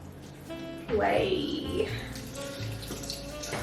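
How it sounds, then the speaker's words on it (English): Boiling water for vegetable stock pours from a jug into an Aldi soup maker, a sudden splashing gush that trails off into softer trickling, with a brief word spoken nearby. "600 mils of boiling hot water in there, give it a good stir, and then pour in here"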